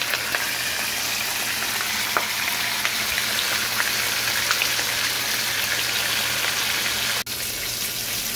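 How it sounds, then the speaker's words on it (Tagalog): Dalagang bukid dried fish frying in hot oil, a steady, dense crackling sizzle that stays loud and even throughout, with scattered small pops. "Prituhin na natin."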